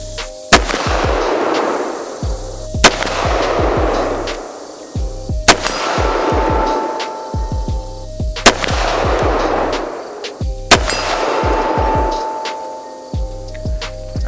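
Five heavy, booming Desert Eagle .50AE pistol shots ring out outdoors at even intervals of about three seconds, each loud crack followed by a long rolling echo.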